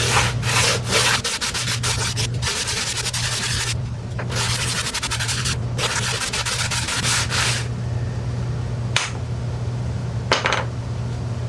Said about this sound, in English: take your sanding block, lay it down, and sand it